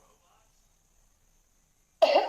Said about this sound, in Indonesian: Maaf Bu, saya batuk.